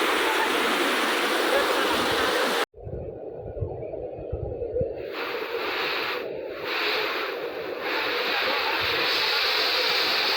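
Loud, continuous rushing water of the BilPudi waterfall, briefly cut off by a sharp break, then returning with a duller roar and some faint noises.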